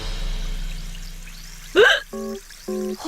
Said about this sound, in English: how am I going to get rid of these hiccups?